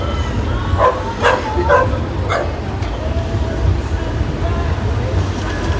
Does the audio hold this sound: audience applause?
no